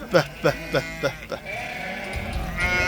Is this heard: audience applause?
no